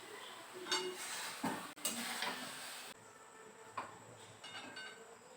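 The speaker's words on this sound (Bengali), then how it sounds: "আবার ভালো করে নাড়াচাড়া করে নামিয়ে নিতে হবে" Masala Yippee noodles being stirred in a pan, with intermittent scraping and clattering strokes and soft sizzling between them, quiet and close with no talking.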